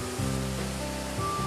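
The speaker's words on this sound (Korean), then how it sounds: "시원한 폭포 소리가 제 심장까지 쿵쿵 전해지는데요." A waterfall on Phnom Kulen mountain in Cambodia gives a broad, steady rushing roar, loud and continuous, with some faint tonal background layered over it.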